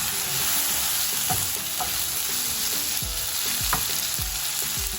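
Tindora (ivy gourd) stir fry sizzling steadily in a pan over medium heat, with a constant frying hiss broken by several scraping stirs of a spatula; close and alone, no voices.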